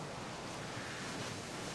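Steamboat Geyser in Yellowstone erupts in a steady roaring hiss of jetting water and steam, a dense, constant rush heard faintly from a distance.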